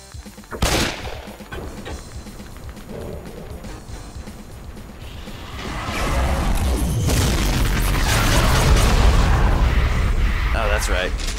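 Rocket launcher fire and blasts in a video game: a sharp loud boom near the start, then a long, dense roar of explosions and gunfire building through the second half, with speech mixed in.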